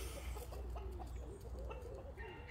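Backyard chickens cluck softly and intermittently at close range over a low steady background rumble, a few short murmuring calls in quick succession with no voices.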